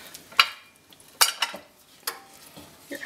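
A spoon stirs sausage roll filling with brown sugar in a bowl, giving several sharp scraping clinks at irregular intervals over a quiet background.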